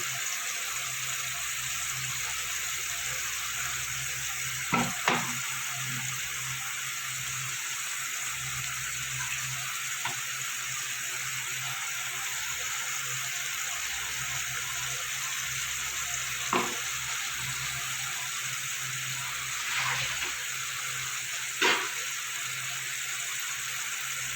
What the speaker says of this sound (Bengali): এবার মশলাটা ভালো করে কষিয়ে নিতে হবে